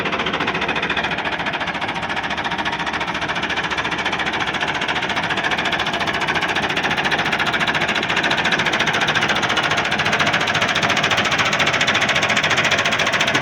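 A 1998 Massey Ferguson 375 tractor engine running with front blade and rear implement, a loud, steady, dense mechanical clatter throughout, close by, with no talk.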